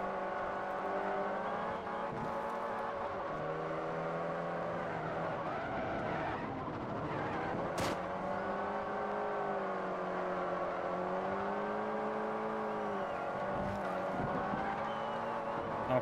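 A Lamborghini Diablo engine racing in Forza Horizon, a sustained loud roar that rises and falls with revving and gear changes, with occasional tire skids, alone and without talk.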